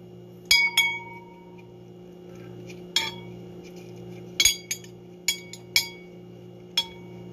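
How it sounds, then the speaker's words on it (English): A spoon clinks against a tea cup while the tea is stirred: sharp, bright taps arriving in irregular bursts, some doubled, over a quiet steady hum with no talking. "So, let me stir my delicious tea."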